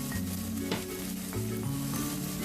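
Potato samosa filling sautés in a pan with a steady low sizzle and soft stirring scrapes, faint and close, no voices.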